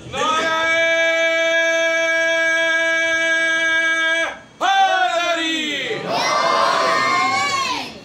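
A crowd at a religious Jashan gathering in Multan chants slogans: a long, sustained voiced call held steadily, a brief break, then a loud swell of many voices answering together, rising and falling in a raucous group shout.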